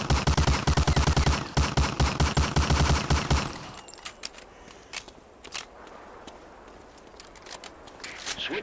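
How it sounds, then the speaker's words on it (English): A Thompson submachine gun fires at a training target in Medal of Honor: Allied Assault, loud rapid bursts of automatic fire for several seconds, then stopping, leaving scattered clicks and footsteps over quiet background. "Shoot that target 20 times with the Thompson."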